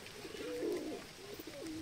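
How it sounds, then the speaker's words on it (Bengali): A feather-footed Lotan pigeon coos among a flock of pigeons, giving two soft rolling coos close by over a faint background hush, no talking. "আর এখানে এটা হচ্ছে আমাদের একটা লোটন পায়রা।"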